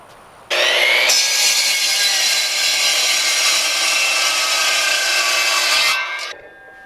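A power saw bites into reclaimed lumber just below old nail holes for a raised garden bed, a loud, continuous whining cut that starts abruptly, holds steady for about five seconds, then winds down.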